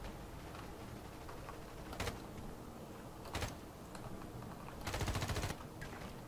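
Gunfire in the video game Battlefield Play4Free comes as short, faint automatic bursts spaced a second or two apart, the longest near the end, over a quiet background.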